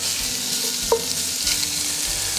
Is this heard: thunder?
no